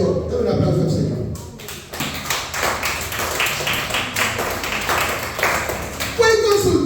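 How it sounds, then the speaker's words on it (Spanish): Church congregation clapping in a bright, busy patter after a short stretch of voices, the applause rising and holding steady with talk and a sung note near the end. "Dale un aplauso al Señor."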